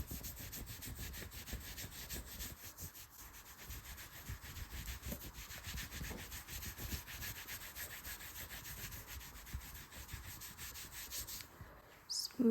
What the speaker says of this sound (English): Smoothing the arm.